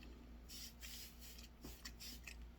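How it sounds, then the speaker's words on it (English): Avène face mist is sprayed onto the face in several quick, soft hissing bursts, close and quiet, with no talking. "Actually, I'm gonna give my face a little bit of a spray."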